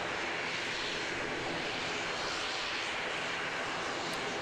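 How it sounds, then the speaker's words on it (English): Airbus A320 airliner, Air New Zealand flight NZ377 from Wellington, landing at Christchurch Airport, heard as a steady broadband engine roar and rush of air, distant and fairly faint, holding evenly throughout with no talk. "I believe that's NZ377 that's just landed"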